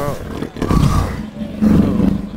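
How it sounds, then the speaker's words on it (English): A black leopard roar is performed live into a microphone through Krotos Reformer Pro, producing two loud, close growling roar bursts with a voice driving the sound over about two seconds. "So this is the sound of a library of a black leopard"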